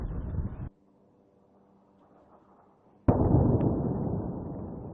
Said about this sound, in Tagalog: Dumadagundong din ang mga pagsabog sa Lebanon